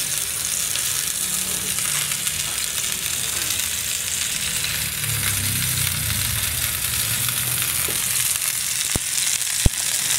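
Hotdogs fry in a pan with a steady close sizzle and a faint patter of spattering oil, and a couple of sharp clicks near the end.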